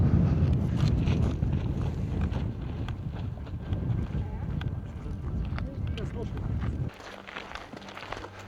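Wind gusts across a mountain route on Mangart in Slovenia, a loud continuous rumble buffeting the microphone that drops away abruptly near the end, with a person talking over it.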